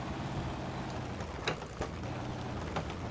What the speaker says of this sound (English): I'm going to take this truck through there.